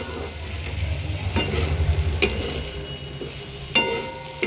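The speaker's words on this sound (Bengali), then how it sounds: "দেখতে পাচ্ছ আমার ভাজা ভাজা হয়ে গেছে, নিচের দিকটা কেমন কালো কালো হয়ে যাচ্ছে, মানে আমার ভাজাটা কমপ্লিট হয়ে গেছে।" Okra and potato frying in oil, a continuous sizzle broken by several sharp scrapes and clinks of a spatula stirring the pan, close up with no talking.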